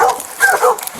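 A dog barks and yelps in short bursts amid a chaotic scuffle at an animal welfare check, with agitated voices nearby.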